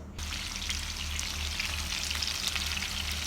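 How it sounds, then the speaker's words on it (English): Vegetables fry in hot rendered pork fat in a pan, giving a steady, close sizzle with light crackle and a faint watery bubbling, and no voices over it. "these are the veggies that are gonna fry in the fat from the pork"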